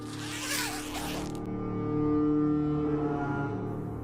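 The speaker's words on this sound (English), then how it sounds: "I heard the zipper of his tent slide open." A tent zipper rasps quickly open for about a second, close and crisp, followed by a steady low droning hum that lingers.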